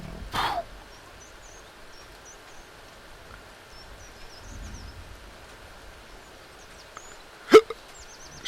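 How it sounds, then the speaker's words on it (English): A single sharp hiccup pops out abruptly near the end against a quiet background with faint rain-like patter and a few distant bird chirps; a softer catch opens the stretch. "I got the hiccups."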